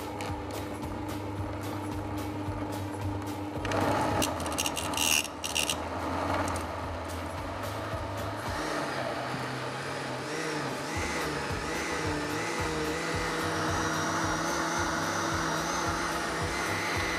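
A loud, steady motor whir of a hand blender runs throughout, its pitch shifting and grinding as it works, with a brief harsher burst partway through.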